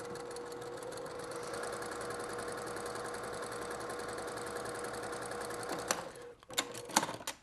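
Sewing machine stitching a wedge seam on a quilt, a continuous close mechanical whir for several seconds before stopping, followed by a few fabric rustles and clicks.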